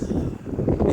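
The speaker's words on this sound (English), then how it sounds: "Windy as usual" Wind blowing outdoors beside a shed where a Honda Civic hatchback is being worked on, a steady low rumbling buffet against the microphone that swells near the end.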